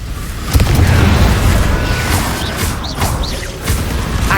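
An Incendio fire spell cast in Hogwarts Legacy gives a sudden loud whooshing burst, followed by crackling roar and a few short flaring sweeps, alone with no talk.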